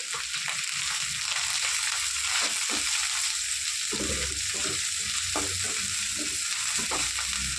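Turmeric, ginger and garlic fry in a pan with a steady loud sizzle, broken by scraping stirs and clinks of a spoon throughout, with no voices.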